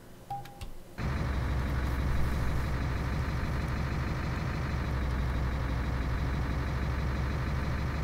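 A heavy truck in the driving game 18 Wheels of Steel: Extreme Trucker 2 starts up and then drones steadily at close range, a loud low engine rumble that holds unbroken to the end, with a brief tone just before it kicks in.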